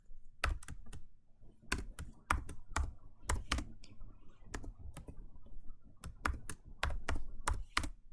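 Computer keyboard typing of switch configuration commands, quick clusters of sharp close keystrokes with short pauses between bursts.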